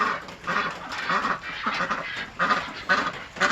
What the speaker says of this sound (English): Look, even my ducks, they're all excited about it.